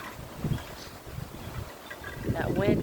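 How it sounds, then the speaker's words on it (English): Wind gusting outdoors in a natural setting, a soft broadband rush swelling and fading in uneven waves, with a voice murmuring faintly near the end. "That wind came quick."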